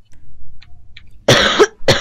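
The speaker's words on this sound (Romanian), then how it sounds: "Mamă, ce tușesc" A person coughs loudly and close up, two harsh bursts after a near-silent stretch.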